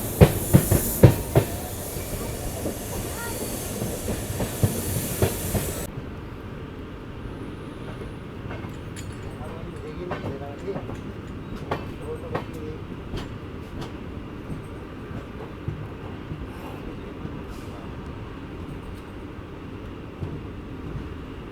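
Sogaria Intercity SF Express train running on rails toward Sogaria, giving steady rolling rumble with repeated clickety-clack beats over the joints; louder with a broad hiss for the first few seconds, then a quieter continuous ride.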